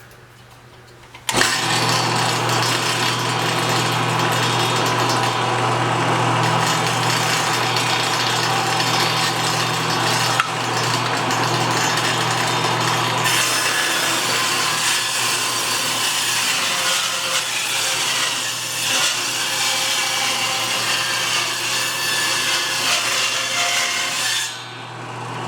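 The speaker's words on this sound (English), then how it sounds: "I'm going to rip it off at 2 inches and call it good" A 65-year-old Powermatic table saw rips a board of 3/4-inch oak at 2 inches wide, a loud, steady blade whine held for over twenty seconds as the stock is pushed through, stopping abruptly near the end.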